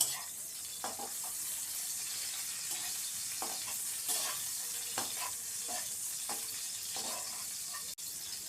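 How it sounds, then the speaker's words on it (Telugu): Food sizzles and fries steadily in a pan, with a continuous hiss broken by repeated scraping stirs of a utensil at a close, moderately loud level. "వేగుతున్నాయి చూడండి ఫ్రెండ్స్, వేగినాయి"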